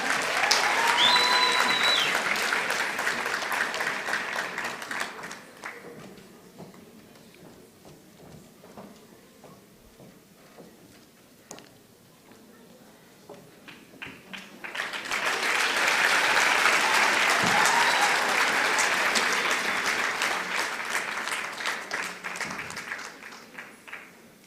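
A graduation ceremony audience in Windhoek applauds in two waves: a full burst of crowd clapping, a quieter lull of sparse claps and hall noise, then a second strong round of applause that slowly fades.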